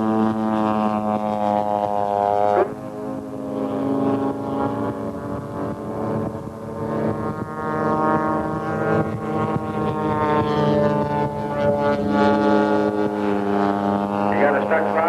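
A model airplane engine with a stuck throttle drones loudly and steadily at a constant pitch for the whole stretch, with a brief dip early on.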